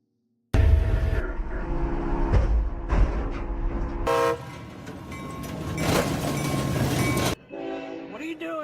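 Amtrak train 822 striking a stranded car hauler: a loud horn blast and roaring impact rumble with crunching, scraping debris noise sustained for several seconds, then fading to lighter rattling.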